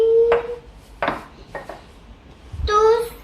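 A spoon clinks and taps against a mixing bowl while shredded coconut goes into banana cake batter, with several sharp separate knocks at close range, alongside a voice and an adult talking.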